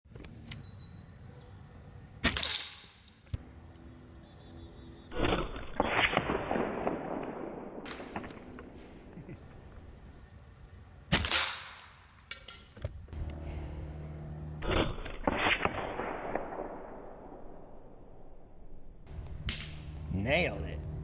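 Black Bunker BM8 folding break-barrel air rifle firing pellets outdoors, several sharp cracks spaced seconds apart, each followed by a fading tail, with someone talking between shots.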